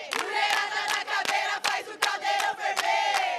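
A crowd of female Atlético Paranaense supporters chants and sings outside the stadium, loud, rhythmic group voices with regular accented beats and short breaths between phrases.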